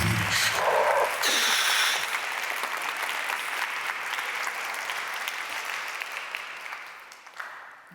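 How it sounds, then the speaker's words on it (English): A lecture audience applauds as an astrophysicist takes the stage: full, steady clapping that starts loud and gradually fades, with a brief louder burst near the start. "Let us give a big applause to Michaël Gillon"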